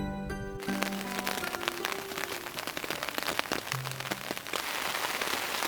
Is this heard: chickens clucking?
no